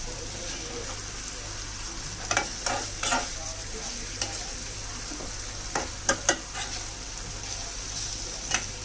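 A spoon stirs stuffed ivy gourd curry frying in a pan. Steady oily sizzling runs throughout with intermittent scraping and clacking from stirring, up close and with no voices.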